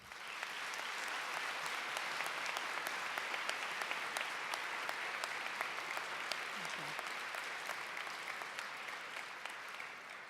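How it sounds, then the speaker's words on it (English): Audience applauding sponsors at a motorsport tribute event, a steady, even wash of many hands clapping that carries on for the whole stretch without pause, moderately distant and fairly quiet. "If we can have those folks stand so that we can applaud you"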